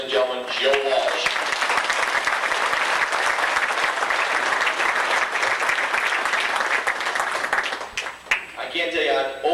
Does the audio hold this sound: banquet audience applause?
yes